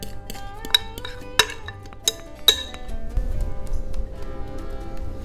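A utensil clinks sharply against a baking pan four times in quick succession as chicken enchilada casserole mixture is spread evenly across the bottom, followed by softer scraping and shuffling.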